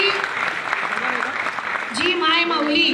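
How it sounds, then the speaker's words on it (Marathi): An audience claps at a gathering promoting a health juice product, with broad, dense applause for about two seconds before a voice takes over and continues speaking. "टाळ्या अशा वाजवू नका"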